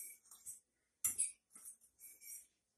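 Salt and baking powder being stirred together in a bowl, heard as a few soft, close clinks and scrapes of a utensil against the bowl in short bursts separated by silence.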